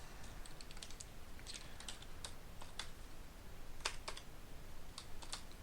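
A name is typed on a computer keyboard into an Australian eVisitor visa application form: steady bursts of close, crisp keystrokes with short pauses between groups, heard alone over quiet background hiss.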